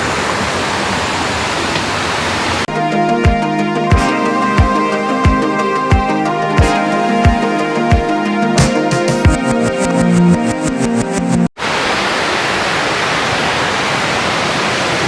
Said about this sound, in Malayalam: വെള്ളം ഒലിക്കുന്നുണ്ട് ചെറുതായിട്ട്.